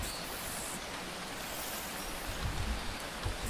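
Steady rain falls in the video game Phoning Home, an even hiss of drops that runs on alone and close, with a few low thumps near the end.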